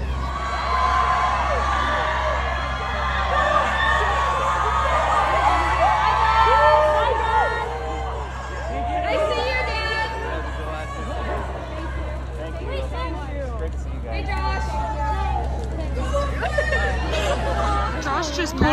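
A large outdoor crowd gathers at a celebrity softball event, a continuous hubbub of chatter and overlapping voices broken by scattered whoops and cheers, fairly close and steady throughout.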